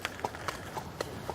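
Horse hooves clip-clop on a hard surface early in the morning at the Queen's castle, about six even, moderately close strikes spaced roughly a quarter second apart over faint background noise.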